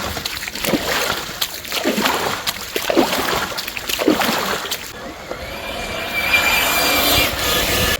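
An RC car being rinsed in a stream, with repeated splashing and sloshing of water close by, then a steadier flowing rush of water in the second half.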